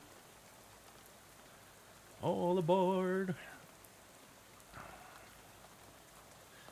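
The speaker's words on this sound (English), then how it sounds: "you're dozing off to the sound of rain spattering on the window beside you" Soft rain patters steadily on a bus window in the video game Shadows Over Loathing, a faint even hiss throughout, with a brief spoken voice partway through.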